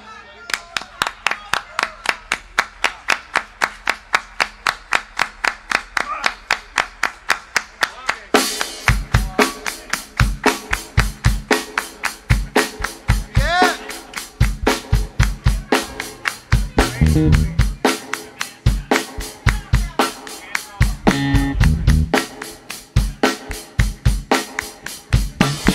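An audience claps in a steady rhythmic soul clap at a live show, loud even beats throughout, joined after a few seconds by music and voices.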